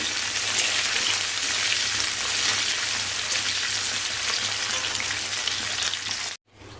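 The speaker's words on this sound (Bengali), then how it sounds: "অল্প করে গোটা গরম মশলা, জিরে আর শুকনো লঙ্কা ফোড়ন দিয়ে ক্যাপসিকামটা ভাজছি।" Capsicum frying in a pan with whole garam masala, cumin and dried red chilli, giving a steady, loud, dense sizzle that runs unbroken and then cuts off abruptly near the end.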